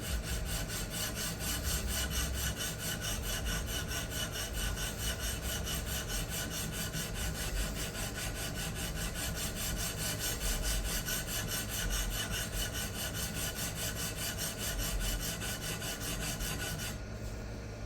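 A knife blade, a tanto, is drawn over a sharpening stone in a fixed guided sharpening system, giving a close, continuous rasping scrape of steady back-and-forth strokes with no talk.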